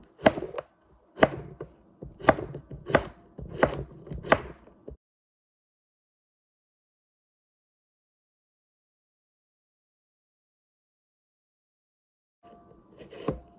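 Vegetables being chopped with a knife on a board, six sharp close chops spaced about a second apart, then a long silence before a brief faint rustle of handling at the end.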